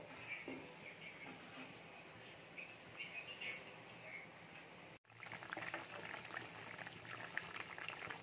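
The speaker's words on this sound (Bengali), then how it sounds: "এবার ঝোলটা বেশ খানিকক্ষণ ফুটিয়ে নেব" Koi fish curry gravy bubbles and simmers in a pot, a soft, steady boiling hiss that breaks off briefly midway and then resumes a little brighter, with faint birdsong in the background.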